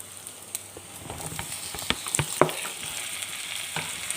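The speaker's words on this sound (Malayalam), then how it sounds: "തക്കാളി ആഡ് ചെയ്ത് നന്നായി മിക്സ് ചെയ്യാം" Tomatoes stirred into sautéed onions in a pan for beef pepper curry, a soft sizzle with scattered scraping clicks of the spoon, close and fairly quiet with no voices.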